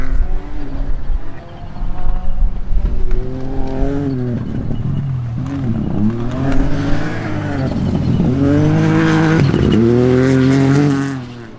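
Rally cars compete on a winter stage near Shackleton. One engine revs hard through repeated gear changes, with rising and falling pitch sweeps and possible tyre noise, loud and close throughout before dropping away at the end.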